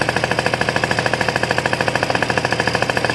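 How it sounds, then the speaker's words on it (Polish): Scooter engine idling with its variator cover removed, a loud, close, rapid rhythmic chugging that pulses evenly and stays steady throughout. "dekiel na pracującym silniku i spróbujemy zobaczyć jak, jak ten wariator pracuje"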